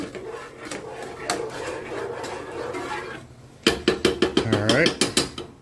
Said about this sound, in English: Give this a good stir.